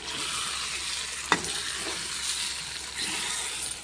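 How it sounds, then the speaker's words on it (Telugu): Eggs are stirred in a hot pan under a soft, even sizzle, with one sharp scrape of the utensil partway through. "ఇట్లా గుడ్లు వేసినాం కదా, ఇట్లా కలుపుకోవాలి మెల్లగా."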